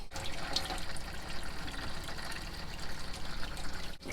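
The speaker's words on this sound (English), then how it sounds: "So let's just check the hot water." Hot water runs from a tap inside a camper van in a steady, close, full-bodied gush that lasts several seconds and then cuts off abruptly, with no voices.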